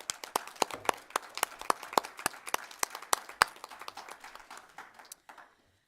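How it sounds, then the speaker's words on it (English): An audience at a school board candidate forum claps for the candidates, a modest burst of crisp, fairly evenly spaced individual claps that thins out and stops after about five seconds, with no talking. "Audience, please give a round of applause to our candidates."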